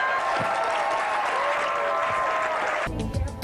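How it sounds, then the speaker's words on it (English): A comedy audience applauds for a comedian in a steady, full burst of clapping that cuts off abruptly near the end, followed by a brief bit of other sound. "Give Dave a nice round of applause."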